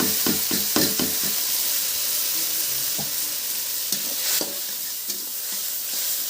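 Spices and vegetables sizzle in hot oil during tempering, with panch phoron, dried red chillies and bay leaves in the pan. A steady hiss is broken by sharp crackles and pops.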